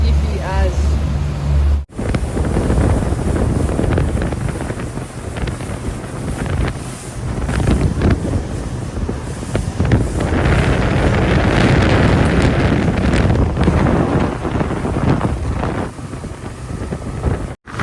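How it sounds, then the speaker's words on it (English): Strong gusty wind buffets the microphone with a loud, steady roar on a rainy fishing outing during a ladies' day competition, broken by a brief dropout near the start and continuing almost unbroken to the end. "It's very windy"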